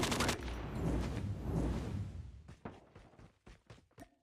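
Gunfire in a competitive online shooter game comes as a dense burst at moderate distance. Scattered single shots follow, fading out.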